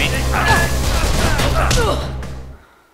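Rifle gunfire in the video game Mirror's Edge, a loud rapid burst of shots with crashing impacts, fading out after about two and a half seconds.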